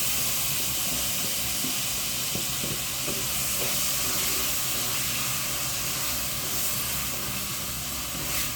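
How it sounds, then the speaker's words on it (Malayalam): Tomato and tamarind drop into a pan of sizzling spices, giving a steady close frying hiss with faint stirring scrapes throughout. "തക്കാളിയും പുളിയും കൂടെ ഇട്ടേക്കാം."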